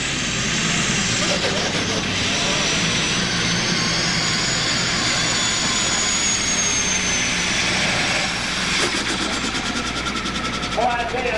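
An Allis-Chalmers D21 pulling tractor called Double Trouble, fitted with four superchargers, roars down the track at a 1994 NTPA pull in Imlay City, Michigan, a loud, sustained, high-pitched engine howl that holds steady from start to finish.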